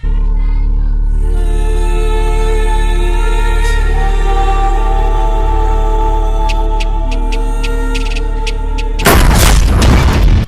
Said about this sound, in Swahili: Lakini pale pale risasi ilipiga kwenye ile pete.